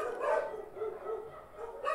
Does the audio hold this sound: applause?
no